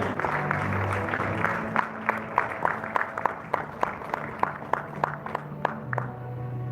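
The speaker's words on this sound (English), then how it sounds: "Let's put our hands together and give a round of applause, everybody." An awards gala audience gives a round of applause that starts as a dense wash of clapping and thins into sparse, separate claps with a low background hum.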